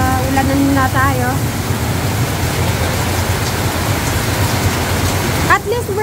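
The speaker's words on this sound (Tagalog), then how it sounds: "Ayan, malakas na ulan." Heavy rain pouring steadily as a dense, loud hiss that fills the whole stretch, with a brief voice or tonal sound over it near the start and again near the end.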